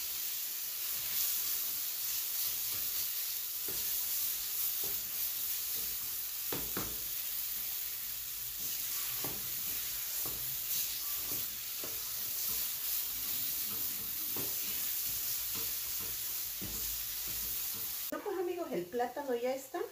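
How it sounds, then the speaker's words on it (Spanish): Mashed plantain and banana purée frying in a pan, a steady close sizzle and hiss with occasional stirring scrapes, continuous for the whole stretch before a brief sharper clatter at the end. "Aquí es como que lo estuviéramos friendo."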